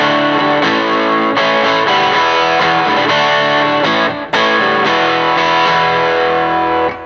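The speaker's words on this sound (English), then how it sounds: "I'm just using, like, the boost side of the Andy Timmons Plus, which is tube screamer-esque" An electric guitar played through a Roland JC-40 amp with an Andy Timmons Plus boost, giving a driven, sustained tone with chords and picked notes ringing close and loud without a break, and no voices.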